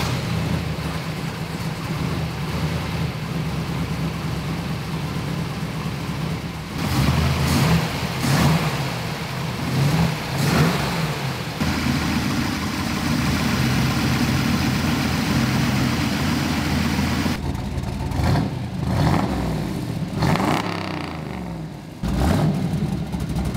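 First-generation Camaro engine with carburetors, just back together after a thermostat housing gasket change, running steadily with a low, loud idle and occasional blips of revving, heard close for a long stretch.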